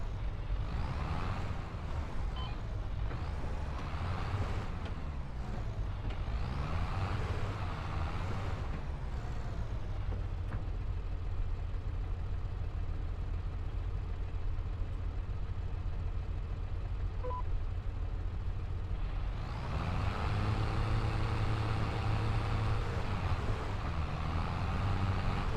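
A tractor engine drones steadily while mulching fields in Farming Simulator 25, a low continuous rumble with a tonal hum that swells louder near the end.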